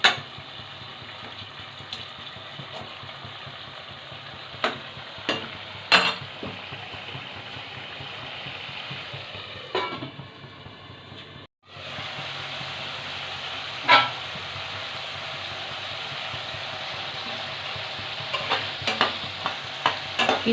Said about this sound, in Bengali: মাছটা দিয়ে আমি নেড়ে চেড়ে নেব।